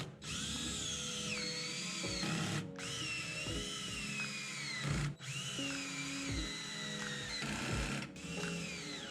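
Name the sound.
power drill driving skid plate bolts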